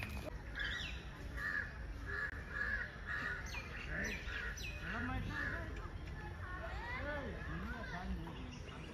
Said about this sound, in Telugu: అక్కడ పక్షులు ఉన్నాయి